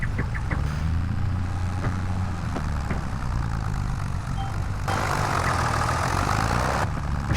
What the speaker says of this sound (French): Je vais forcer son tracteur histoire que le moteur force bien sévère.